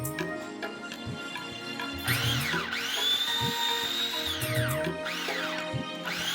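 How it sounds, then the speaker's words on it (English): A food processor pulses cauliflower florets into rice-sized grains, its motor whirring loudly in repeated short bursts that rise and fall in pitch, close up with no talking. "Use the pulse action button to obtain the desired grain of cauliflower to resemble rice."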